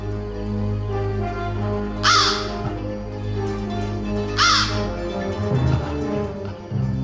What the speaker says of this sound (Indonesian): Engkaukah yang mengirim telur ini padaku, sang gagak perkasa?